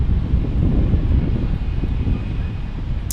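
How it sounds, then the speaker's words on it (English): Steady broad roar of a JetBlue Airbus A321 departing Fort Lauderdale International Airport, heard outdoors with wind buffeting, a continuous loud rumble that stays fairly even across the whole stretch. "Looks like we got a JetBlue departure approaching us."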